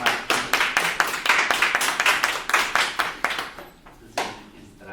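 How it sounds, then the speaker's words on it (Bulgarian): A small group at a children's martenitsa-making contest claps for a child, sparse distinct handclaps in a quick uneven rhythm, close and fairly loud, thinning out and pausing before a final few claps. "Браво, аплодисменти на Венци."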